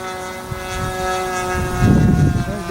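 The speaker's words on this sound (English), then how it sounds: "That motor was really not very smooth the other day, and it wasn't that smooth the last time I run it" A 60-size Reactor biplane RC model airplane with a rough-running motor, flying in the distance: a steady buzzing engine drone with a steady whine, rising briefly near the end as people talk nearby.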